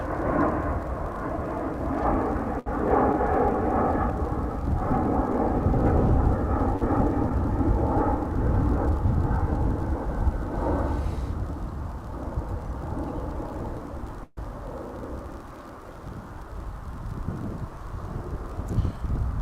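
An American Airlines jet passes at DFW Airport: a loud, broad roar that holds steady for about ten seconds, then slowly fades and thins as the plane moves away.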